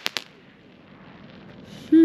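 A Black Scorpion 16-shot firework cake sets off two sharp, loud bangs in quick succession at the start. A quiet hiss follows, and a brief tonal whistle rises near the end.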